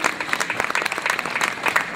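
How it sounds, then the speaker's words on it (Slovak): Audience applause for Blanka at the opening of her boutique in Bratislava, a continuous dense patter of many hands clapping at moderate volume, steady throughout. "A ja ešte dodám tiež takú áno zaslúženú potlesk pre Blanku."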